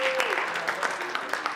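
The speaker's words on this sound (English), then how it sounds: "So give yourselves a round of applause." A live audience at an internet marketing success seminar claps in a brief burst of applause, with dense broadband patter under a steady tone, lasting under two seconds.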